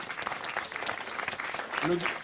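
Audience applause for a guest at a restaurant event, steady brisk clapping from a small crowd throughout, with a voice speaking briefly near the end.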